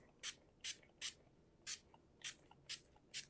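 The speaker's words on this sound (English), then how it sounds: "Spray a little," Shimmer spray misted onto a craft card in short bursts, seven quick hissing spritzes spaced roughly half a second apart, close and clear over a quiet room.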